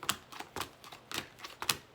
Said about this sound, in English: You would not believe how much I am shuffling